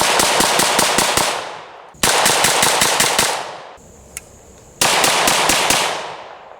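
Zastava M57 Tokarev pistol in 7.62x25 firing three rapid strings of loud, sharp shots, each burst ringing out with long echoing decay, separated by a brief quieter pause with a small click.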